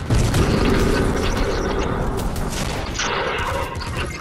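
Gunfire in the video game Fortnite, a dense rattle of shots and booms running continuously at moderate loudness, mixed with game mechanisms and other clatter.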